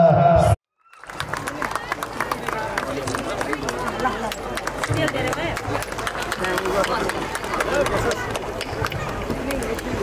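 An audience stands and claps at the inauguration of a Majhi community Ladi Puja festival program, a dense, sustained round of applause that starts after a brief gap and runs on steadily, with voices mixed in.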